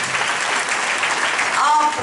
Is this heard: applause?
yes